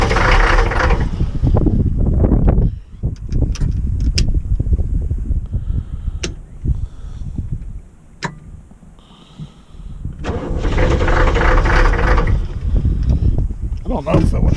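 A military Humvee HMMWV with a leaky fuel pump cranks and struggles to start in the cold, loud rough bursts of engine churning broken by pauses, with people talking nearby.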